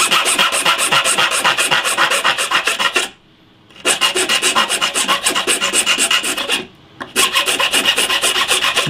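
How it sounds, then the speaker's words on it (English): A file rasps rapidly at a guitar fret tang and into the wood, a loud, close, continuous scraping rhythm broken by two short pauses. "As soon as you start filing wood, you know you've done it."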